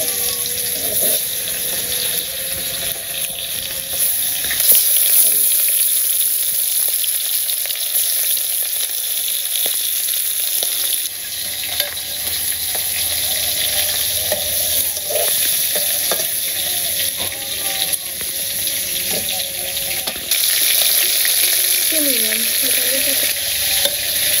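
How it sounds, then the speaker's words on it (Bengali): Fish pieces sizzle in hot oil during simple village cooking, a loud, continuous frying hiss with bursts of spattering and light utensil knocks, and some running water in the background. "আমার তেল গরম হয়েছে, মাছগুলা দিয়ে দিচ্ছি।"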